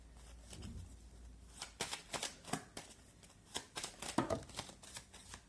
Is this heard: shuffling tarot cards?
yes